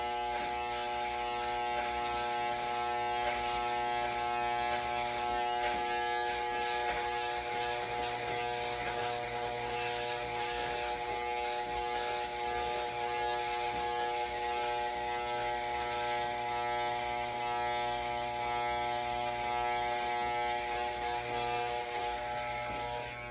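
Electric hair clippers fitted with a guard buzz continuously while tapering hair, a close, steady motor whine with faint textured cutting rasps.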